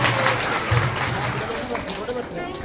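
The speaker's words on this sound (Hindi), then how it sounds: "तो एक बार जोड़कर ताली बजाएं।" A devotional gathering in Baraut claps together for a Vyasa-puja program, a dense, steady round of applause heard close, with speech mixed in.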